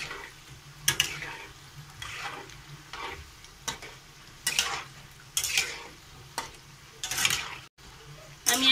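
Langcha (milk-and-flour gulab jamun) frying in oil on a raised flame while being stirred without pause: repeated scraping strokes at an uneven rhythm over a soft, continuous sizzle, close and moderately loud, no speech.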